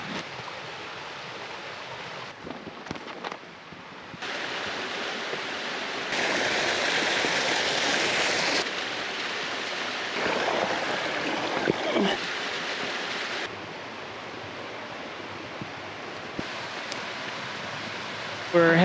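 Creek water rushes steadily through a desert canyon in Arizona's Tumacacori Mountains during winter monsoon rains, a continuous broadband wash that rises and falls as the listener moves closer, with no clear talk.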